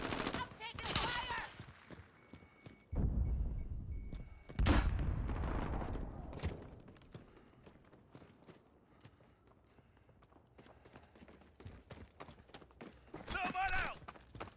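Gunfire in Call of Duty: Modern Warfare, with scattered sharp shots and short bursts amid footsteps and in-game radio voices, loud at moments and quieter in between.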